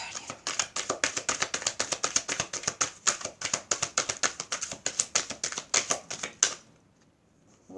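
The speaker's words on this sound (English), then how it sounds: "I'm going to do one more shuffle" Tarot cards are riffled in a fast, even run of crisp close clicks and flutters lasting several seconds, then stopping abruptly into near quiet.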